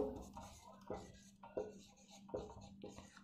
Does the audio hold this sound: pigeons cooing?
no